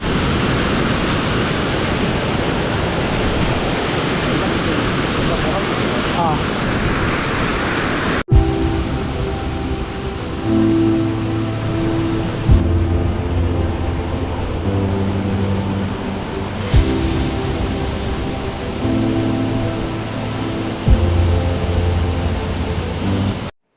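Steady roar of a waterfall, loud and continuous, with a broadband rushing wash filling the scene; midway it turns into a more muffled rush with a low tonal hum layered on top.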